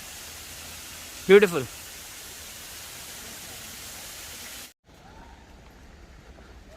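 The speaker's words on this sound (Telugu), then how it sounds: "కానీ చిన్న వాటర్ ఫాల్" Steady broadband rush of a small waterfall at a castle site, constant and moderately loud through most of the stretch, with a brief spoken exclamation early on before the sound cuts to a quieter ambience near the end.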